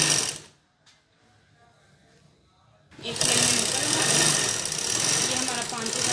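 A sewing machine stitching a Patiala salwar, starting after a quiet pause and running in a fast, loud, continuous mechanical whir close by, with someone speaking briefly at first.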